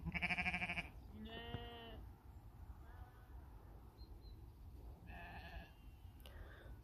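Sheep on a farm in summer, shorn short, bleat in several loud, close calls: a strong one at the start, another just after, then a softer pair later over steady outdoor background noise.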